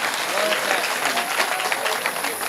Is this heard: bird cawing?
no